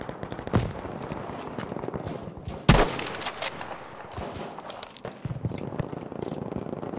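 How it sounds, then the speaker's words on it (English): Machine gun fire in the Battlefield V video game comes as bursts of distant rapid shots with one sharper, louder crack, set against a busy battlefield background. "those machine guns are so good at range"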